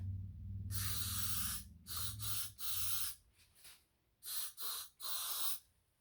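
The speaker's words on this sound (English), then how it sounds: "So what I do is I spray in the cup like this." Several bursts of a spray bottle hissing into a cup, one long spritz followed by shorter quick pumps, close and clear with quiet pauses between.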